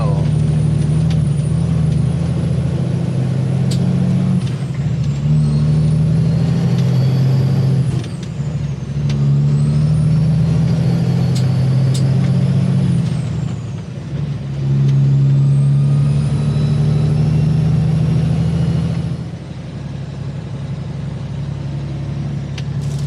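Heavy trucks moving a drilling rig over loose gravel, a loud continuous diesel engine drone with rising and falling whine as they work, plus brief air-brake hisses.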